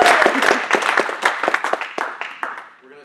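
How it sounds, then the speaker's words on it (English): A small meetup audience gives a round of applause, loose individual claps close by that start fairly full and gradually thin out and fade. "round of applause for John and Blake"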